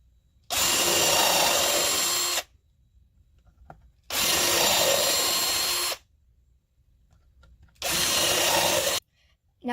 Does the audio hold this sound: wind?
no